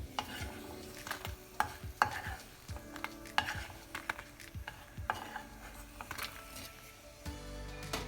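Dry red chillies roasting in hot oil in a pan, a steady close sizzle broken by scraping stirs and clinks of the spoon against the metal.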